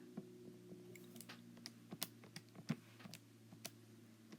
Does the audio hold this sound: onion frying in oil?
no